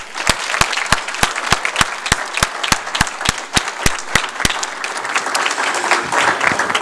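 At a school board meeting, applause greets a middle school basketball team: sharp, evenly spaced loud claps from one nearby person stand out over lighter clapping from a small group, with the near claps stopping before the end.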